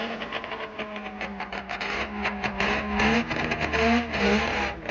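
Saab Formula Junior race cars roar past on a track, engines revving and shifting pitch as they accelerate, loud and close with overlapping motor tones.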